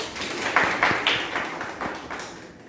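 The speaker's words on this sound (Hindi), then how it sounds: "ताली बजा दीजिए" Scattered claps from a small group at a voter awareness quiz competition, a handful of distinct, uneven hand strikes spaced irregularly over a few seconds, fairly faint with a quiet room behind them.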